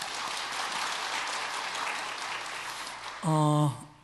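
A congregation at Sunday worship applauds two new soloists, steady massed clapping for about three seconds before it gives way to a sustained tonal sound.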